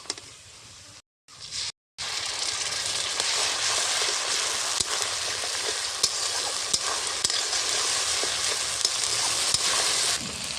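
Spices and desi duck meat masala sizzle steadily in a pan with a loud, continuous frying hiss and occasional sharp crackles, briefly cut off near the start before resuming.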